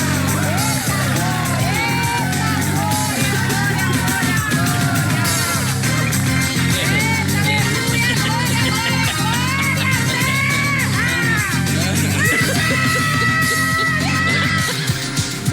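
A crowd shouts, yells and whoops continuously and loudly for about fifteen seconds, overlapping voices rising and falling in a dense clamor.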